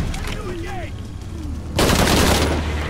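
Enemy soldiers open fire in the action game Shadow of the Tomb Raider, with a quieter stretch and a few bird-like chirps, then a sudden, loud, sustained barrage of rapid gunshots.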